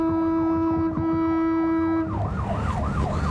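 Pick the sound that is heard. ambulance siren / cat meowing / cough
ambulance siren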